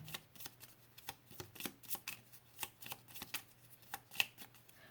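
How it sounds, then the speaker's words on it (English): Quiet riffling and flicking of small cards being shuffled, a series of soft crisp taps and slides in an uneven rhythm. "These cards are a little bit tiny, so they're a little hard to shuffle."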